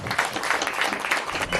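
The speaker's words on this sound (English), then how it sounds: "Big round of applause for them." Applause for a group of seven members at a training event, a brief burst of dense clapping heard at steady loudness throughout.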